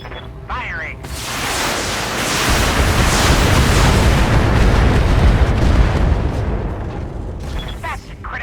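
Weapon fire in a video game erupts into a loud, sustained explosive roar with heavy rumbling boom lasting several seconds, with brief voice-like sounds around its start and end.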